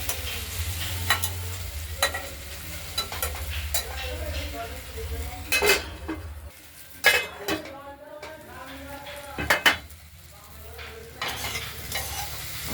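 Chopped spring onion stalks stirred in oil in a frying pan, a steady sizzle broken by repeated clinks and scrapes of a spatula against the pan, close and fairly loud.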